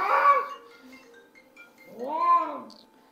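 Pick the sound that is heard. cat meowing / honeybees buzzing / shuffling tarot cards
cat meowing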